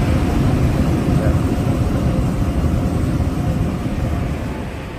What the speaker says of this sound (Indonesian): Nah ini kita sudah akan mendarat.